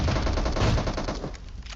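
Rapid automatic gunfire in the PUBG Mobile shooter game, loud dense bursts blending into a continuous rattling fusillade that thins slightly toward the end, with no talking.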